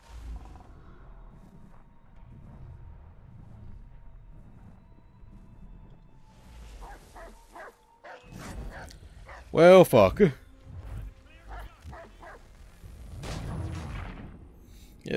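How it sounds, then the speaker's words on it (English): Dogs bark and yip in Assassin's Creed 3 gameplay, a short burst of loud barks amid game sounds and sparse effects, with someone talking over it. "Yeah, dogs are cool."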